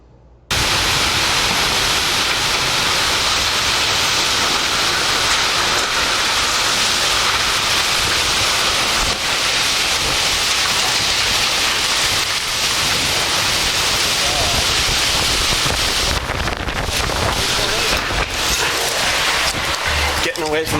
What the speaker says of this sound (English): You can actually hear the hail coming down.